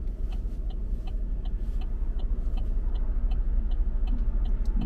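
A fire-damaged 2013 Chevy Equinox on a drive, its engine and road rumble steady and close inside the cabin, with a faint regular ticking running through it and no talk.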